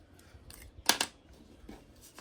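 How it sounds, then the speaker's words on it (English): Paper snips cut through cardstock for a handmade birthday card: a couple of quick, close, crisp snips in the middle, with faint handling rustles before and after. "Let me get some paper snips."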